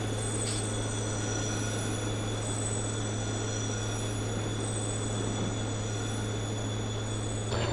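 A train from the Transport Fever 2 game rolls along rails in an alpine French setting, giving a continuous loud rumble with a steady tonal drone, high wheel squeal and faint clicks at the start and end, and no talk.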